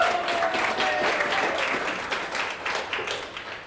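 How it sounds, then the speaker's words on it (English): An audience at a book launch for Annette Cantillon's novel Wantonness claps in a brief, lively round that starts strong and tapers slightly toward the end. "come on, give her a round of applause"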